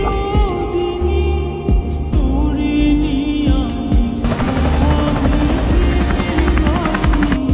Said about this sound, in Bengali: আপনার লোকেশনে হেলিকপ্টার পাঠানো হচ্ছে।